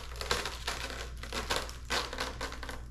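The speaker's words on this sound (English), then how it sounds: "shall we do the honors and go ahead and rip this plastic off?" Plastic wrapping being slowly peeled and crinkled off a brand-new RC car, close up, in a series of loud crackling, tearing bursts with short pauses between pulls.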